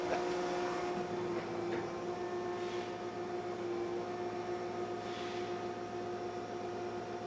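A machine running at about 1700 PSI on a blank 6.7L Cummins injector nozzle, cold for the first test of the day, makes a steady close hum with tonal whine and broadband hiss throughout.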